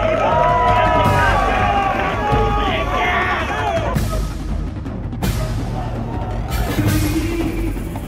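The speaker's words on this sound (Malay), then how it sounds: "Bagi tepukan gemuruh kepada mereka" A large crowd at a street rally outside a news office cheers and claps, a loud mass of voices and shouts with scattered clapping and a few whistles, continuing without pause.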